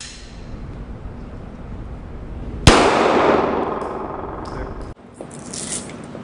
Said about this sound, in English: We've got our 12-gauge tactical shotgun with a 12-gauge, 1-ounce tactical slug